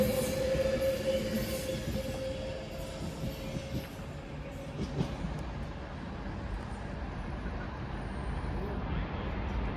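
A passenger train departs Stoke-on-Trent station, heard as a low, continuous rumble of wheels and engine with a brief tonal squeal early on, steady and fairly close.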